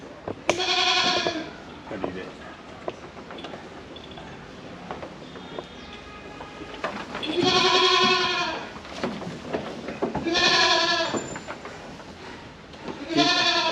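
Goats on a goat and sheep farm give several loud, nasal bleats spaced a few seconds apart, close to the listener, over a steady background of farmyard noise.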